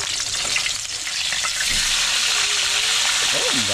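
Food fries loudly in a hot pan with a dense, steady sizzle and occasional stirring scrapes, while a voice briefly speaks over it near the end.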